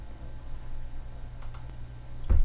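Computer mouse clicks on a dialog's OK button: a couple of faint, quick clicks, then one sharper, louder click near the end over a low electrical hum.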